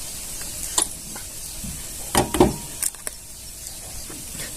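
Orange fruit colour stirred into leftover jaggery water for jaggery-rava modak: a low steady hiss with scattered light scraping clicks of a spoon, a small cluster in the middle, close and moderately loud.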